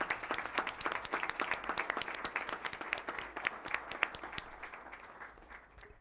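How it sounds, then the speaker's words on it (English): An audience applauds student accomplishments at a school board of education meeting. Many individual claps blend into moderately dense, fairly distant applause that holds steady and then thins and fades toward the end, with no talking. "Let's have an applause for these wonderful accomplishments"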